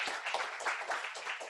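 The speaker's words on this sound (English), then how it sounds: "if we could give him a round of applause" Audience applause for a speaker being welcomed at a content marketing seminar in San Diego, a short burst of steady clapping filling the room with no talk over it.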